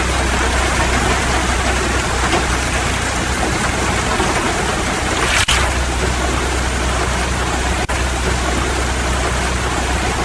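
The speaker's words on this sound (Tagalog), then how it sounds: "Pabilog po, palalaki kasi ang patak ng ulan ngayon" Steady, dense rain falls continuously, a loud hiss of drops on surfaces with no voices, plus a couple of brief sharp knocks partway through.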